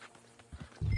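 Horse hooves in Red Dead Redemption II give a few soft, muffled clip-clop thuds, quiet at first and then heavier and closer near the end of the brief moment.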